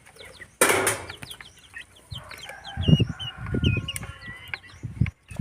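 Chickens cluck and call close by while being fed leftover rice and sliced banana, with a burst of wing flapping at the start and scattered chirps over low, soft clucking.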